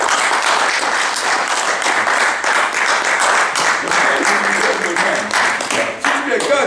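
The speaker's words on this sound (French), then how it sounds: "on va applaudir monsieur Martin" A festival audience applauds Monsieur Martin after a Q&A at the Panafrican Film Festival in Cannes, a dense, steady wash of clapping lasting several seconds, with a voice or two emerging near the end.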